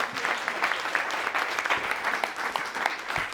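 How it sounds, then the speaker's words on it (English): A round-table business audience breaks into steady applause, moderately loud clapping from a roomful of people that carries on evenly throughout. "I think a round of applause."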